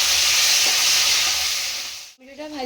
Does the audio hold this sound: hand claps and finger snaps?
no